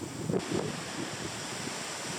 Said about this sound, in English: Here we have some nice waves